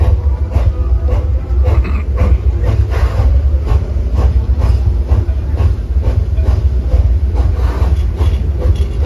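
A theme park train engine labours up a hill, a steady loud rumble with rhythmic chugging and clacking pulses running throughout, plus a faint hiss.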